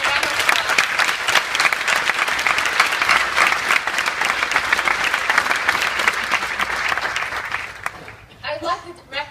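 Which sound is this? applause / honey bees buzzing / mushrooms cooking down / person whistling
applause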